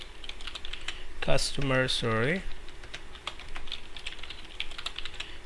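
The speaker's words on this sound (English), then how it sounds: "then we'll type customer name" Typing on a computer keyboard while entering a customer name field into a Microsoft SQL Server table: a continuous patter of light, quick key clicks runs throughout, with a man's brief spoken word over it early on.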